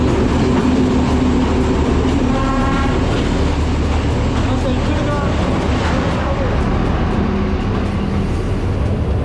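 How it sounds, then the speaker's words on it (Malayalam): A train rolls past along Hanoi's Train Street, a loud, close, continuous rumble of wheels and cars with clattering and a horn-like tone, while people talk over it. "നോക്കി നമ്മളിങ്ങനെ ട്രെയിൻ ഇങ്ങനെ കടന്നു പോകുന്നു"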